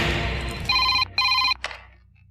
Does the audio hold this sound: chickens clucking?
no